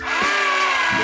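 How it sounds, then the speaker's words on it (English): Power driver sinking screws into a plywood van floor: a loud, close, steady whine from the motor that holds for about a second. "And now we are putting all the many screws in."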